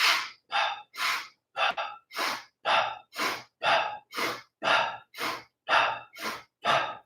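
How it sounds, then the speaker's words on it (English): Rhythmic sniff-and-puff belly breathing exercise: about fourteen evenly paced, forceful breaths through the nose and mouth, close and loud, each a short burst of airy hiss with brief gaps between, no talking. "You just breathe in wherever you can with the sniff puff"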